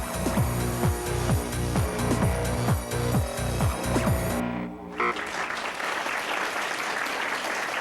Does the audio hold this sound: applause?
yes